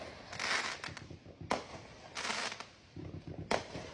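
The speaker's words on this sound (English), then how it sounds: "This fireworks going off behind the back straightaway." Fireworks at a Fourth of July block party near a racetrack's back straightaway burst in loud, crackling volleys, four distinct blasts spread over a few seconds with a noisy crackle between them.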